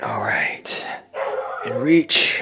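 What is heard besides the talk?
dog barking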